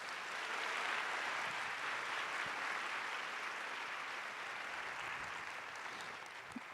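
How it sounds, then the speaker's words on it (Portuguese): Applause from a large audience at a corporate welcome event, a broad, even wash of clapping that stays sustained and fairly distant for the whole stretch, easing off slightly near the end. "então eu queria uma salva de palmas para a gente comemorar isso junto"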